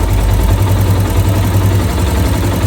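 A Yamaha YBR125 motorcycle with a butterfly carburetor idles during mixture tuning, its steady low engine drone running loud and close without a break and with no talking.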